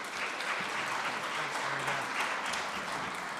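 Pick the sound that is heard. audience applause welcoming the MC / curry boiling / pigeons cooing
audience applause welcoming the MC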